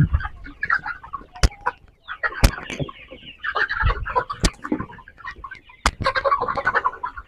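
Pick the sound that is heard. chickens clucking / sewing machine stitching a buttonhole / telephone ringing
chickens clucking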